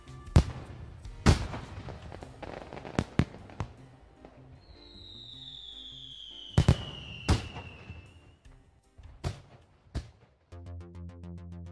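Fireworks display closing a summer gathering, with a series of sharp booming bursts spread across the clip, one rising whistle streaking overhead, and a crackling tail near the end, loud and reverberant outdoors.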